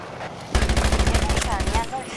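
Rapid automatic gunfire rattles in a war video game, a loud burst of evenly spaced shots lasting over a second before it stops.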